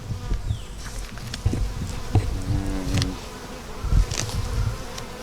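Honey bees buzz loudly and close around an open Ukrainian-style hive at an apiary, a dense steady drone with individual bees passing near, alongside soft handling thumps and no talk.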